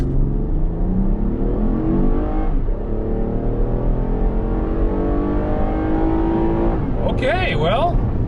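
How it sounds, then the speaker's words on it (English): A Toyota Highlander V6 in sport mode launches hard from a stop, its engine roaring loudly and rising in pitch through the gears, steady and close inside the cabin, with people speaking briefly near the end. "Why don't you floor it? Let's feel the power out of this V6."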